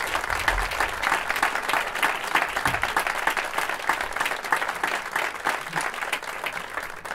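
A crowd at the Premiu Pozu Fortuna 2017 event applauds warmly, a moderately quiet, continuous patter of many hands clapping that carries evenly for several seconds.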